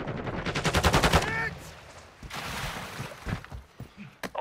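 Rapid automatic gunfire in Call of Duty Warzone on Al Mazrah, a loud close burst of evenly spaced shots, followed by scattered single shots and thuds with faint voices in the background.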